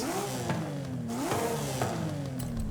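A Porsche Cayman GT4 RS with a new exhaust revs repeatedly in Forza Horizon 5, the engine note climbing and falling in several sweeping pulls at steady, close volume with no talking.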